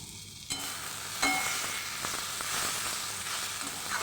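Chopped red capsicum hits a hot pan and sizzles, with a steady frying hiss and a few scraping stirs against the pan, close by.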